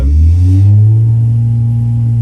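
An engine labored on a dynamometer gives a loud, close, deep throbbing roar whose pitch sweeps down and then holds steady.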